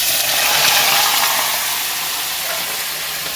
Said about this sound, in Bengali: ওই তেলে মাংস দিয়ে দেব।